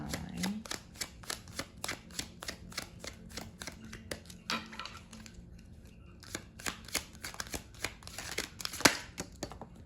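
Tarot cards being shuffled by hand in quick riffling bursts and soft flicks, close and fairly quiet, with brief pauses between runs.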